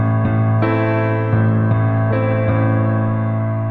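Rock-style piano chords struck in a steady rhythm while the sustain pedal stays pressed, so each loud chord rings into the next with no gaps between them.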